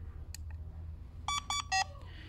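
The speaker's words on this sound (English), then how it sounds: "You can also press hold on temper until it beeps" An HQ alarm system unit gives three short, clear electronic beeps in quick succession after a faint click or two, heard close over a low background hum.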